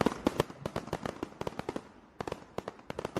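Fireworks crackle and pop in rapid, irregular bursts, a dense string of sharp reports with a short lull midway, somewhat distant and steady throughout.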